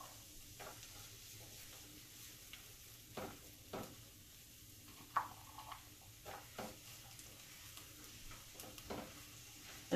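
Garlic and chopped red onion frying in a pan for Ethiopian dulet, a soft steady sizzle and hiss with faint scraping stirs and light ticks throughout, quiet and close with no voices.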